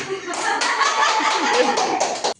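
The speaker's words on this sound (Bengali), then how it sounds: "ও দেখো আগেই হাততালি দেয় যে নেবে।" Several hands clap in quick bursts during a lively family fruit-flipping game, the clapping mixed with excited voices talking over it until it cuts off abruptly.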